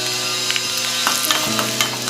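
Dried red chillies frying in hot coconut oil, a close steady sizzle with a few scattered crackles and stirring scrapes, no voices.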